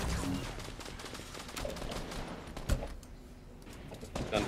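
A gunfight in the Fortnite video game sounds as rapid bursts of gunfire, with sharp close shots and quicker volleys that rise and fall over a few seconds.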